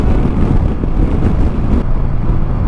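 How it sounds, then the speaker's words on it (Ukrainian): Steady, loud crosswind buffeting a microphone on a moving motorcycle, a dense roaring rush with a low engine hum underneath, continuous throughout. "вітер боковий дує, капець"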